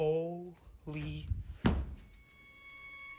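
An ensuite bedroom door gives a single sharp thump partway through, close and fairly loud, with voices talking before it and quiet afterward.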